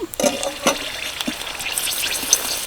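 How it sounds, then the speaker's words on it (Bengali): Four dry red chilies sizzle and crackle in hot oil, with soft scraping stirs and clicks of a utensil breaking up the steady frying hiss. "এই তেলের মধ্যেই চারটে শুকনো লঙ্কা ভেজে নেব"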